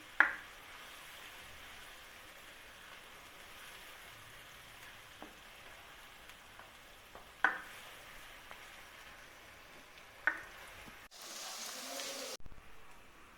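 Onions frying in a pan until golden for a beef kofta curry, a soft steady sizzle running throughout with a few sharp clinks of utensil against pan, ending in a brief louder burst.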